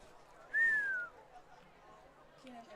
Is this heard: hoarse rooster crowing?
no